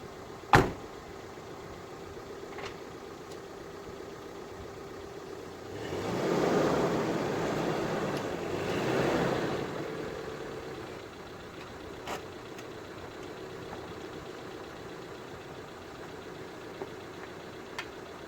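A Daihatsu Sportrak/Feroza truck engine idles quietly in the background. A sharp thump comes near the start, and the engine swells into a louder, rougher rumble for a few seconds midway, then settles back to a low idle.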